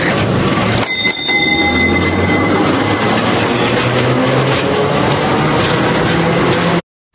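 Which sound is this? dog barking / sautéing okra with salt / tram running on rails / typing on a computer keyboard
tram running on rails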